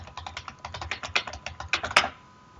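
Rapid, steady keystrokes on a computer keyboard while entering text into an Excel spreadsheet, close and clear, ending with a slightly louder final key press, no voice.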